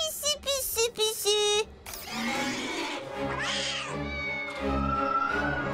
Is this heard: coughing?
no